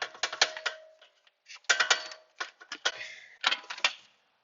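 An old shock absorber is pulled out from under a 2012 Ford Explorer, giving close clusters of sharp metallic clicks and rattles in four bursts separated by brief pauses.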